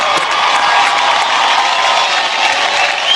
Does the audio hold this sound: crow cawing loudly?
no